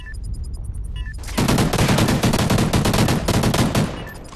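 In a Call of Duty: Ghosts online match, sustained rapid automatic gunfire rattles loudly for several seconds in dense bursts, preceded by quieter game effects and softer shots.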